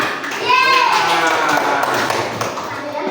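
Schoolchildren in a primary science class clap their hands together in a loud, busy burst, with young voices chattering and shouting over the clapping.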